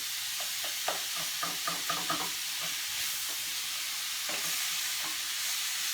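Frozen broccoli with peas and other vegetables heating in olive oil in a pan for a tater tot casserole, a steady soft sizzle with gentle stirring scrapes and taps close by.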